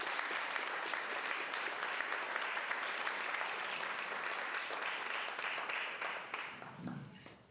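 An audience at a conservation stewardship breakfast applauds steadily for the recipient of a conservation leadership award; the dense clapping stays strong throughout and fades toward the end.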